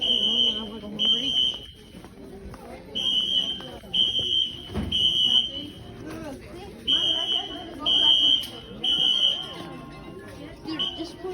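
Fire alarm in a Ross store, its pulsing tone beeping over and over under busy crowd chatter and footsteps.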